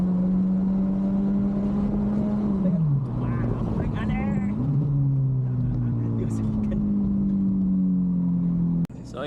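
Remapped 2011 Honda Civic FD 1.8 S automatic with paddle shifters accelerating hard, a steady engine drone climbing in pitch, dipping at a shift around three seconds, then rising again, close and loud under occasional talk.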